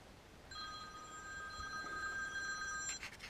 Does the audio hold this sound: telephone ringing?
yes